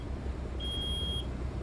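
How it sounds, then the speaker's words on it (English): One steady, high-pitched electronic warning beep sounds for about half a second in a truck cab in American Truck Simulator, heard over a low engine rumble. "We finally got the beeping to stop."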